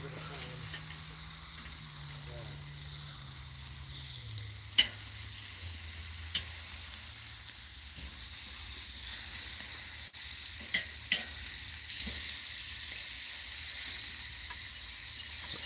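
Meat sizzles and fries in a pan with a steady, close crackling hiss, a low hum fading underneath and occasional sharp pops and clinks breaking through.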